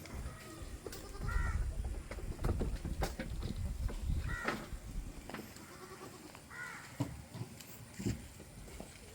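A young Malabari male goat kid, offered for sale at a farm in Manjeri, bleats a few times in short, nasal cries spaced several seconds apart, over scuffling, knocking and general barnyard noise.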